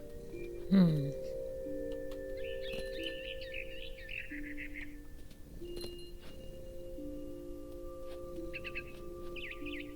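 Small birds chirp in the video game What Remains of Edith Finch, quiet tweets and short trills scattered over a soft ambient bed of sustained game tones, with one brief louder bump near the start.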